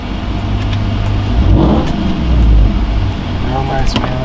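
A 900 hp 2021 Ram TRX pickup with Hellcat upgrades accelerates hard, its engine rising in a loud, throaty surge nearby, with voices talking over it.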